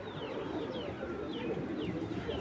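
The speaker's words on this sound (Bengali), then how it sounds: "খুব সুন্দর একটা কবুতর" Soft, low cooing from a big male pigeon of an old breed with rare eyes repeats gently over a quiet hum of background ambience.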